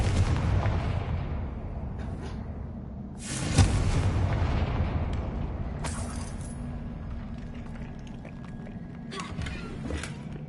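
A Confringo blast spell goes off in Hogwarts Legacy as a loud booming explosion, following a rumbling low-end wash of game sound, with a brief sharp crack midway and fainter bursts trailing after.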